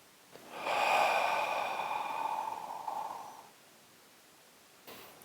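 A person takes one long, strong breath through the nose during an energy exercise, a loud, airy, sustained rush lasting about three seconds. A shorter, fainter breath follows after a pause.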